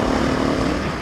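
A small motorcycle engine running steadily, close up with a constant droning hum and no talking over it during a brief moment.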